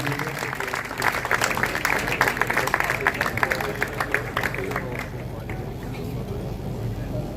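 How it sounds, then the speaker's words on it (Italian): A crowd applauds at an amateur boxing evening in Trissino, Italy, with dense, sustained clapping heard in a large hall that tapers off after about five seconds. An announcer talks over the clapping and keeps talking after it ends. "Facciamo un applauso anche ai Dao Sorin"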